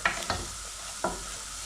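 Basa fish steaks fry in a pan with a steady bright sizzle, broken by a few short scraping stirs near the start, close and continuous with no voices.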